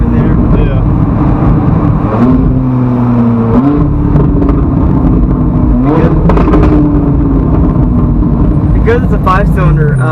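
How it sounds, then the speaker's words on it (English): A turbocharged five-cylinder car engine pulls up through the revs in a few rising sweeps, each dropping back before climbing again, close and loud, with people talking over it. "Because it's a 5-cylinder, it sounds like a half V10, like a half Viper almost, except with a turbo on it."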